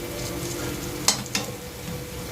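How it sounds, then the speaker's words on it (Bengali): Onion fritters (peyaji) frying a second time in hot oil until crisp, a steady close sizzle with two sharp utensil clicks in the middle, no voices. "কড়কড়ে মুচমুচে খেতে হবে বলে আরেকবার করে ভেজে নিচ্ছি দুটো সাইডই।"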